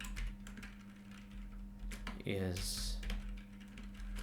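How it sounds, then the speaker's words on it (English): Quick, uneven clacking of a computer keyboard while someone types in a JavaScript coding lesson, keys tapping close by throughout, with a brief spoken word partway through. "Let's type my name"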